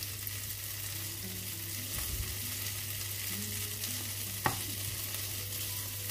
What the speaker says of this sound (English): So I'm just going to put it on the butter and let it fry